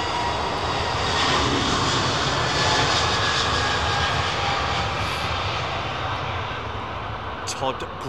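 Heavy jet airliner engines at London Heathrow Airport roar loudly and steadily close by, a broad sustained rumble that eases slightly near the end, with a voice talking over it.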